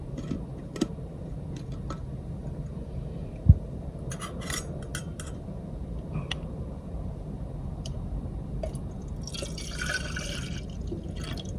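Coffee is poured into a coffee maker in a camper van, a soft dripping trickle over a steady low hum, with one sharp click and a brief hiss of liquid near the end.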